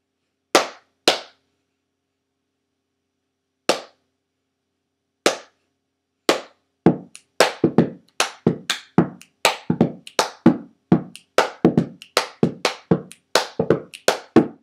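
Hand claps and beats of a wrestling cheer: a few sparse, isolated claps, then a quickening run of sharp claps and slaps in a repeating pattern, close and clear with no talk.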